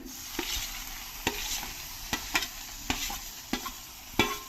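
Colocasia stalk mash with tomato and coarse-ground ginger and green chili is sautéed in a pan for a village-style bharit. A steady soft sizzle runs throughout, punctuated by about eight sharp spatula scrapes and taps at an uneven pace.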